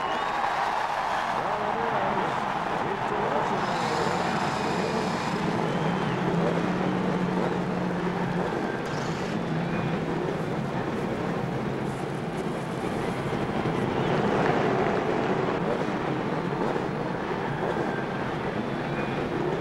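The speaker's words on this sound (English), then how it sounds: "Ladies and gentlemen, start your engine." Indy 500 race cars at the 1993 race, a dense, continuous roar of many engines filling the track, loud and steady with a crowd-like wash beneath and no clear single car standing out.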